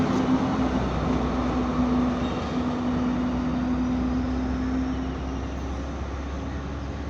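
A train runs along a railway line in Bemmulla, a steady rumbling roar with a constant hum that fills the whole stretch and eases slightly toward the end.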